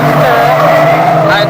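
A banger racing car at Bovingdon skids hard and is nearly thrown off the track, its tyres screeching loudly over a roaring engine in one continuous close slide.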